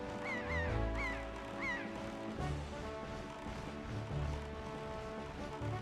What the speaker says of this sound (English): Get away from me, birds.